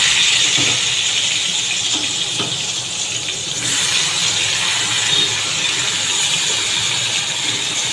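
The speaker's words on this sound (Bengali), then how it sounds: "এবার আমি এটাতে বেগুনগুলোকে, নুন হলুদ মাখা বেগুনগুলোকে এবার আমি ভেজে নেব।" Brinjal pieces rubbed with salt and turmeric fry in hot oil, giving a continuous loud hissing sizzle that stays steady from start to finish without speech.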